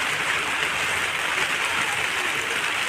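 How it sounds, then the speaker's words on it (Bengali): Steady rain falls outdoors beside a small garden, a dense, even hiss of drops that runs unbroken throughout at moderate loudness. "ভালো বৃষ্টি শুরু হয়ে গেল আমাদের এখানে।"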